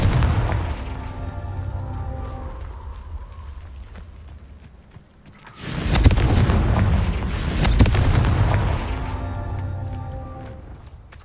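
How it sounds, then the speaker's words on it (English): Confringo fire spell explosions in the game Hogwarts Legacy, two heavy booming blasts a couple of seconds apart over a rumbling background of combat noise. "Confringo."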